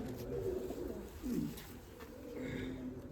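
Low, soft cooing of pigeons repeats in gentle rolling phrases, fairly faint, with a quiet background hum.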